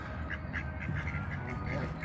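Ducks and ducklings on a park pond at sunset quack in short repeated bursts through steady background noise, with people talking nearby.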